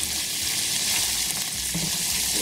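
Garlic and ginger sizzle steadily in a hot pan of oil, a close, continuous crackling hiss with no talking.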